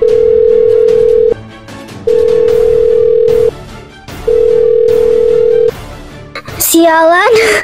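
A telephone line gives three long, loud, steady tones separated by short pauses, followed by a brief burst of warbling, voice-like sound at the end.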